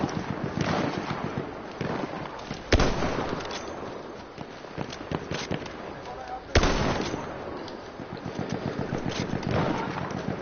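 Battlefield 1 gunfire from a heavy, large-calibre weapon, sharp loud reports at irregular intervals over continuous battle noise, with a person talking throughout.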